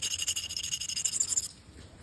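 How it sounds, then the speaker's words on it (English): A flint dagger edge being sharpened by knapping, a quick run of fine, close scratchy scraping strokes in rapid rhythm, then stopping, faint and with no talk. "Sharpen this just a little."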